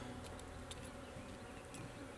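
A steady, dense hum of many honey bees buzzing close by at an open hive, with occasional louder individual buzzes passing near.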